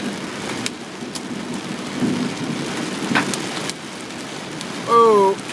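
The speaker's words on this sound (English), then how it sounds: "Ow! Hail! Whoa, a lot of water." Heavy rain pounding steadily during a severe storm with hail, a dense wash of water noise broken by a few sharp impacts and brief louder bursts, and a voice cries out near the end.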